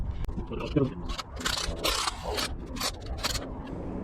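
A hand ratchet tightens a bolt during a J-series engine swap into an NSX, giving short bursts of close, scratchy clicking over a mechanical background.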